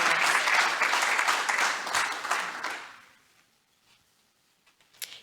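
Audience applause at a Rotary Club meeting in Toledo, a steady wash of many hands clapping for about three seconds that fades out into near silence, leaving only a couple of faint isolated claps at the end.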